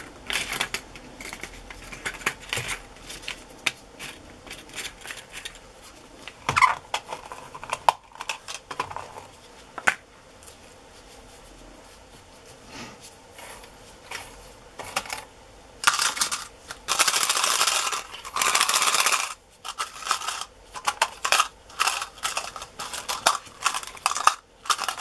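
Metal paper clips jostled by a gloved hand while being coated in alcohol ink, giving dense, irregular clinking and rattling bursts, louder in clusters toward the end.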